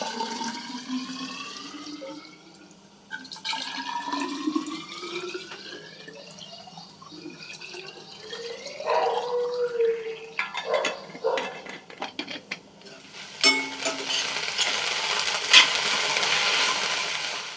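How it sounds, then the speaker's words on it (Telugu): Water running from a tap into children's water bottles in a home kitchen, with rising filling tones as each bottle fills, drips and splashes, then a louder gush of flowing water near the end. "కూర అయ్యే లోపల పిల్లల వాటర్ బాటిల్స్ నింపేస్తా"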